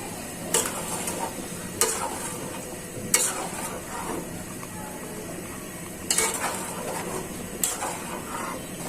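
Ghee and masala frying in a pot while a spoon stirs, sharp scraping clacks against the metal every second or two over a constant close sizzle; no one speaks.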